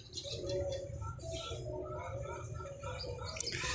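Six young wild jungle pigeons being released, soft cooing and chirping calls repeating through, with people talking underneath.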